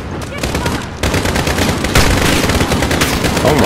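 Dense, continuous gunfire from Call of Duty Modern Warfare, loud rapid bursts overlapping into a steady volley with no pauses and some talk underneath.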